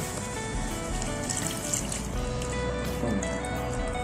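Yanang leaf water pours steadily into a cooking pot for a Thai mushroom and snail curry, a continuous close liquid splash and trickle running unbroken throughout.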